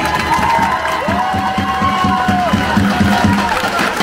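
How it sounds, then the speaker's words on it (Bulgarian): At a big Bulgarian folk concert by a singer, a large crowd cheers and whoops over rhythmic clapping in time, a loud sustained roar with a high whistle-like cry sliding above it. "Вашите бурни аплодисменти за жената, която поддържа българския дух."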